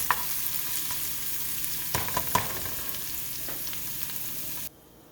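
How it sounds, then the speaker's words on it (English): A ground lamb mixture sautés in a pan, giving a steady close sizzle broken by a few sharp scrapes and taps of a stirring utensil. The sound cuts off abruptly just before the end. "we're going to let that saute for a couple of minutes"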